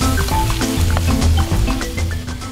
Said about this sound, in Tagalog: Igigisa ni Cheryl ang bawang, sibuyas, saka ilalagay na rin ang kibit.